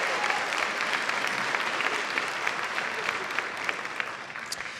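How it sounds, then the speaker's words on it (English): A school-district Teacher of the Year celebration audience gives warm, sustained applause, many hands clapping in an even, continuous wash at moderate distance with no talk over it. "they deserve another strong and warm round of applause"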